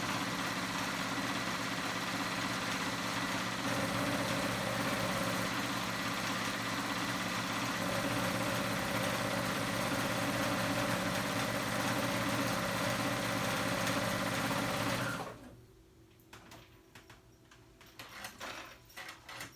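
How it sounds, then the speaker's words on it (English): A sewing machine running a straight stitch gives a steady, continuous motor hum and rapid needle clatter for about fifteen seconds, then stops, leaving faint handling noises. "I'm just doing a straight stitch, and I'm leaving like 1 inch or 2 inch gap to fit in my elastic."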